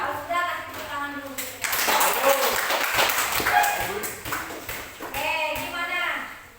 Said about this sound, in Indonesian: Kalau sudah kasih tepuk tangan dulu.